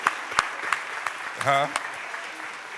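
Audience applause fills a Philadelphia City Council stated meeting chamber, a steady broadband clapping wash with a few sharper claps, while a brief voice speaks over it midway.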